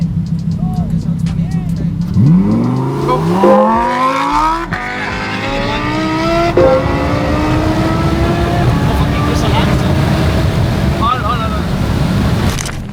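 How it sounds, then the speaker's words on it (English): A Tesla Cybertruck and a Lamborghini STO launch side by side in a drag race, the engine and motor noise rising in loud sweeping pitch climbs that build and hold for several seconds amid wind and outdoor rumble. "to race the Lamborghini STO with this bad boy Cybertruck"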